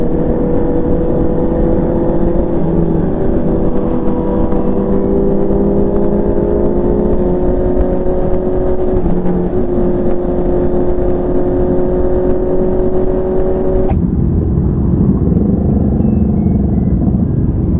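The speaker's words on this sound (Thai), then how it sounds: "สองสูบลั่นๆครับ" A two-cylinder big bike motorcycle roars continuously on a ride toward a Nakhon Nayok waterfall, a loud, close, steady engine drone whose pitch shifts and drops sharply near the end.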